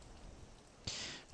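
Rain falls steadily in a Skyrim survival setting, a soft continuous hiss that swells into a louder, denser wash near the end, with no voices.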